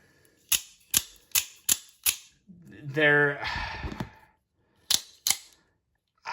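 Guardian Tactical Recon 035 OTF knife firing its blade out and retracting, a series of sharp metallic snaps in quick succession, then a brief whirring rattle and two more crisp clicks, close and loud with no talk.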